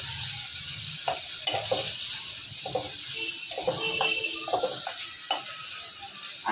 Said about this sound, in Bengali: মাংসটা দিয়ে আমি এবার একটু ভেজে দেবো এভাবে